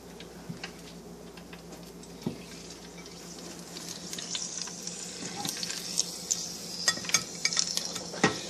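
Jicama chips frying in oil, a soft steady sizzle with scattered pops and crackles that grow busier toward the end, heard alone without voices.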